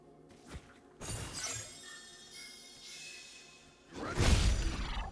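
Shattering attack effects in Stranger of Paradise: Final Fantasy Origin, a sharp glassy burst at about one second and another louder crash near four seconds, with whooshes and a ringing tail between them.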